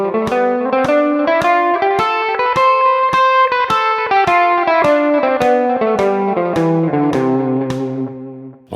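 An instrumental scale rises and then falls in a swung long-short triplet rhythm, with distinct pitched notes sounding clearly and evenly, with no voices.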